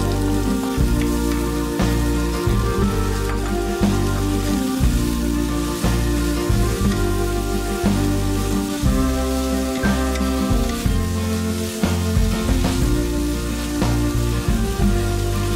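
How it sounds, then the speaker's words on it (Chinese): Shredded potato hits hot oil with scallion and garlic in a wok, giving a steady, loud sizzle that runs throughout beneath background music. "炒出香味后加入土豆丝翻炒"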